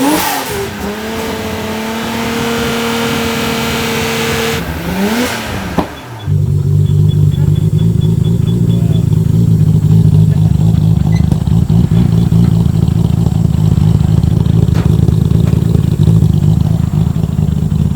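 A loud Nissan GT-R engine tuned by Mine's in Japan revs hard with rising and falling pitch, then cuts out and restarts into a rough, rumbling idle that continues steadily.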